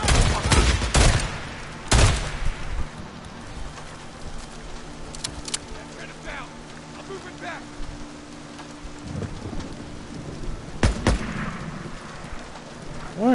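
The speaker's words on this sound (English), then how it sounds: "What are you shooting at, dude?" Gunshots in the video game Days Gone ring out as sharp, loud bangs in a few separate bursts, some doubled, near the start and again near the end, with a rumbling, rainy-sounding backdrop between them.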